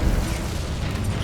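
A fire spell cast in Hogwarts Legacy: a short, dense, rumbling burst of whooshing flame, loud and close, with no voice.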